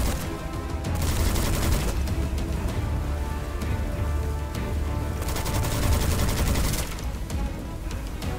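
Sustained, dense gunfire from the Witchfire shooter game during the Irongate Castle boss fight, loud bursts of rapid shots running almost unbroken with heavy low booms, easing briefly near the end.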